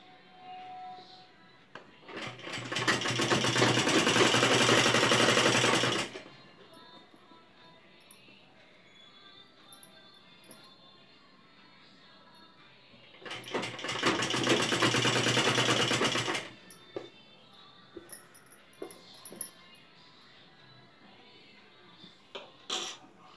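A sewing machine stitches along a collar edge in two loud sustained bursts of several seconds each, separated by quiet handling noises.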